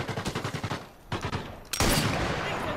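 Gunfire in Sniper Elite VR, played with an aim controller: a rapid burst of roughly a dozen evenly spaced shots, a short pause, another quick volley, then a loud sustained roar of fire, all close and without talk.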